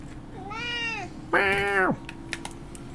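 A cat gives two loud, drawn-out meows, the second one stronger, followed by a few light keyboard-like taps in a quiet room.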